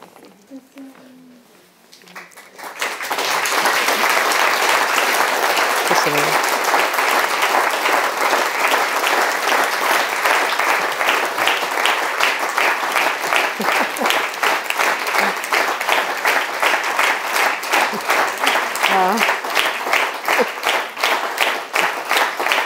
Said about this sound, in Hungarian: Én remélem, hogy ez a taps Makolc Imrének, Rudolf Steinernek és a kápolnának szól.